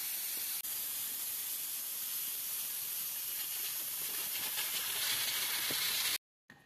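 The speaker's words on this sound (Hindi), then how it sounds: "तो अब हम ढक्कन हटाते हैं प्रेशर कुकर का।" Loud, steady hiss of steam rushing out of an opened pressure cooker for several seconds, close by, ending abruptly in silence with a brief puff afterward.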